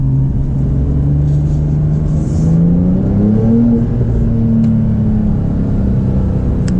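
A 2021 Porsche 992 Turbo engine drones steadily from inside the car while driving, its pitch easing down and rising again as it brakes and holds second gear, loud and continuous with no talk.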